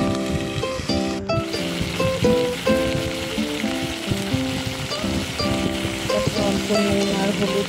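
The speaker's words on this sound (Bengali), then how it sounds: "সবটা দেওয়া হয়ে গেলে তারপরে আমি ভেজে দিচ্ছি।" Garlic and onion frying in a pan give off a continuous crackling sizzle, close and fairly loud, with scattered pops and the clatter of stirring, while a voice talks faintly underneath.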